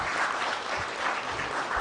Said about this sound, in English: clapping as the Honorable DPP is cutting the ribbon.